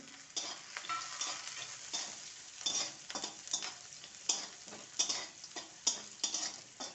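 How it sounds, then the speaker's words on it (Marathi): Onion and peanuts frying in a pan with a steady sizzle, while a utensil stirs and scrapes them in repeated close clinks and scuffs toward the end, with no voices. "कांदा छान गुलाबी होईपर्यंत आपल्याला शिजवायचा"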